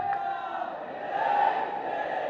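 A sermon audience shouting a jaikara chant together, a sustained massed roar of voices that swells midway and holds, heard from some distance in a large gathering.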